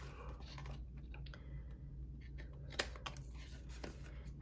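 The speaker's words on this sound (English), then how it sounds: "I'm gonna take my scissors and I'm gonna trim it." Scissors trimming paper for a Stampin' Up! Kite Delight card, quiet close snips with a few sharper clicks of the blades at irregular intervals over low background hum.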